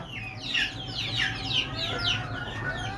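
Native backyard chickens on a rooftop cluck repeatedly in quick, overlapping calls, close by and fairly loud, with no talking.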